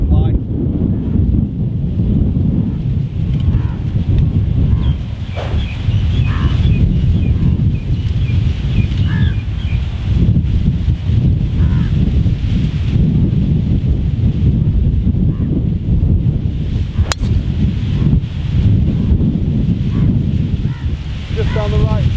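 Strong wind buffeting the microphone on the Fire Course at Jumeirah Golf Estates, a loud continuous rumbling roar with gusts, with a voice faintly beneath.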